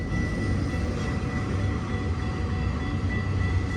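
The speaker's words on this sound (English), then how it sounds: "it's looking like a Q train to me." An intermodal Q freight train passes a railroad crossing at close range, producing a loud, steady rumble with a faint metallic ring above it that holds for the full length of the clip.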